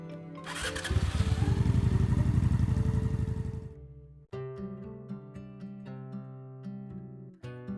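A motorcycle engine in a video game fires up and buzzes loudly for a few seconds, then fades as tonal game music takes over.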